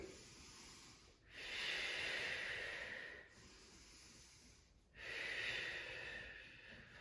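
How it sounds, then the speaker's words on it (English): Steady breathing during a mat Pilates workout, long airy inhales and exhales in a slow even rhythm of about three counts each, close and soft with no talking. "Breathing in for 3 counts and out for 3."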